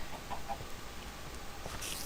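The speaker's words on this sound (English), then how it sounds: "That is a very deep clucking sound." Deep, low-pitched clucking of a chicken in the Minecraft video game at night, a soft, muffled bird call repeating over steady background noise.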